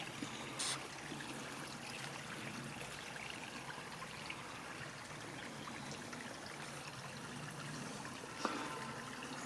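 A creek flows steadily along a roadside curve, a continuous, even wash of running water with no voices heard.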